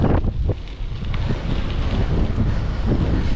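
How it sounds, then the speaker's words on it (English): A strong side wind buffets the microphone while someone rides through town, producing a loud continuous low roar and rumble throughout, with no talking. "Got that side wind coming from my left."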